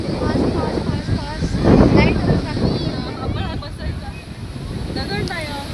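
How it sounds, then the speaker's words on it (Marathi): Cold wind gusts by a rough, churning sea, making a close rushing roar over the surf while voices talk throughout. "जी थंडगार हवा वगैरे सगळी व्यवस्थित सुटलेली आहे सर."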